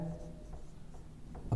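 Faint scratching of pen on paper while a geometry proof is written out, soft intermittent strokes over low room noise, ending with a slightly louder tap.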